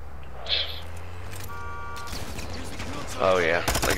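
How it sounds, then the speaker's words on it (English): Players shooting in the Call of Duty DMZ game: scattered gunfire under a steady ambient hum and brief tonal cues, ending in a loud close burst of shots. A voice speaks briefly. "See them shooting at us?"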